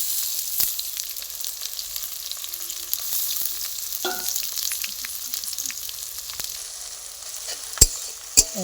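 A spice mix with ginger-garlic paste fries for a country chicken recipe, making a soft, continuous sizzle with occasional stirring clicks and a couple of sharp utensil knocks near the end.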